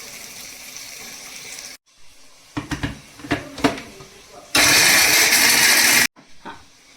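A mixer grinder grinds a quarter shell of coconut in a loud, steady burst of about a second and a half, following scattered kitchen clatter and preceding quieter handling noises.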